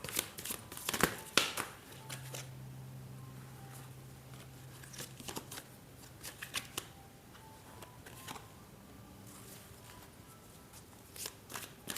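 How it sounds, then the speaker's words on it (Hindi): Tarot cards being shuffled and laid out by hand, with bursts of riffling and soft slaps and taps arriving in irregular clusters between quieter pauses. "मैं कार्ड्स को अरेंज कर लेती हूँ"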